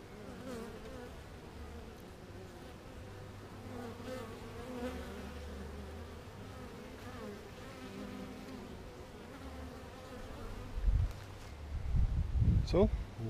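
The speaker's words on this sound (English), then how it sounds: "you've got some bees that are coming in and out with pollen right now" Honey bees buzz in a steady, soft hum close by at a hive entrance, with a few louder bursts as bees pass near, under occasional quiet rustling.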